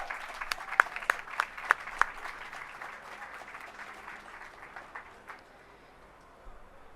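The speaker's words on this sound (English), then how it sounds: "Let's give them a big round of applause" Applause at a Hollywood Walk of Fame ceremony, a crowd clapping outdoors with several sharp individual claps up close, fading out over a few seconds.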